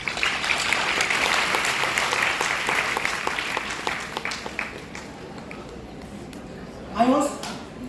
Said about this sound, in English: Let us invite them to the stage with a round of applause.